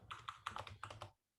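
Rapid typing of code on a computer keyboard, a dense run of close, clattering keystrokes for about a second before stopping abruptly; no voices.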